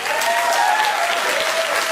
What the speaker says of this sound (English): everyone who just clapped